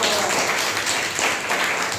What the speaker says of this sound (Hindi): चलिए ताली बजा दी एक बार।